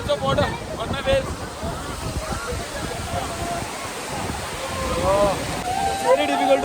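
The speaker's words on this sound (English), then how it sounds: "so much of water splashes on your face" Water rushes and splashes steadily over nearby rocks while a person talks over the noise.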